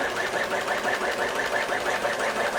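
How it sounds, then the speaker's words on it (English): A sewing machine runs steadily, stitching along the last edge of a fabric face mask, with a fast, even mechanical whir and rhythmic needle chatter throughout, close and fairly loud. "you're going to sew all the way up to the top"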